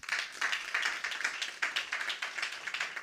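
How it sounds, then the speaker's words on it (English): An audience claps at a live tech event in Lisbon, a dense steady patter of many hands kept up for a few seconds with no voices over it. "A round of applause for them"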